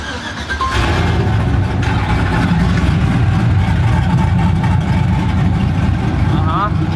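A truck engine turns over and settles into a loud, steady rumbling idle close by, with a brief squeak near the end.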